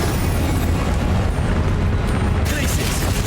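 A fiery burst from the Incendio spell in Hogwarts Legacy, a loud, dense whooshing roar that fills the whole clip and brightens near the end, with game voices mixed beneath.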